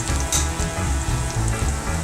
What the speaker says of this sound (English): I'm doing this at kind of a medium-high temperature in the frying pan.